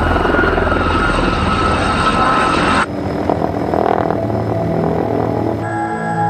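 A gyroplane with freely spinning rotors flies past, its loud, steady engine and rotor drone filling the scene, then shifting to a thinner, more distant engine tone partway through with no voices.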